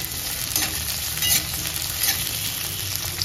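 Chopped onion sizzles and fries in hot oil in a pan while being stirred, a steady continuous crackle with soft scraping, cooking for a paneer mushroom masala.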